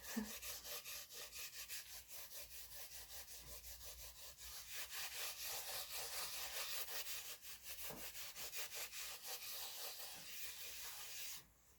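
A fuzzy, soft Christmas decoration rubbed steadily by hand close to the microphone, a continuous rhythmic brushing scrape lasting about eleven seconds with rapid back-and-forth strokes, then stopping abruptly.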